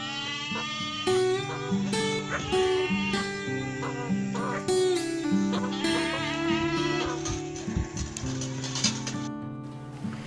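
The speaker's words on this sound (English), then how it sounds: "This is goat." A goat bleats again and again in wavering, nasal cries, close and loud over a constant musical background.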